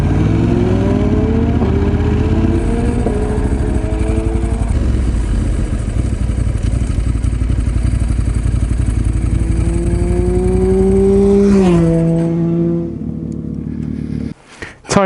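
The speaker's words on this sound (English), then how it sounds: "Even pulling away, my bike just went like boof, boof, boof, boof." A motorcycle pulls away and accelerates hard on a slippery road, its loud engine note climbing through several gear changes before easing off and dropping away near the end.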